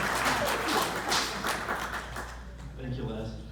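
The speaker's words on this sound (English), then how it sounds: "a big round of applause for Tom and Sherry" Applause at a celebration-of-life gathering in Sarasota, a brief burst of clapping from a small crowd, fading out after a few seconds under some talk.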